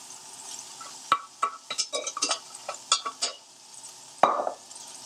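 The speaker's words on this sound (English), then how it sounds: "give it a quick flash fry in some butter ghee" A single portion of rice is flash fried in hot butter ghee in a pan, with a faint sizzle under a run of sharp spoon scrapes and stirring knocks against the metal, one louder clatter near the end.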